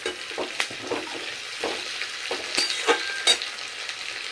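Chopped tomato dropped into capsicum and green chillies frying in a pan; a continuous sizzle with several sharp bursts and spatula scrapes close by.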